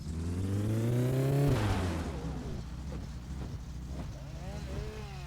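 Car engine in My Summer Car revving up then dropping and running unevenly, its pitch wavering and catching in a stuttering, sputtering pattern, close and loud.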